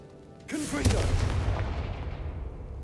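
A Confringo fire spell explodes in the Hogwarts Legacy video game, a sharp whoosh and blast followed by a long rumbling roar that slowly fades, with a brief vocal sound just before the burst.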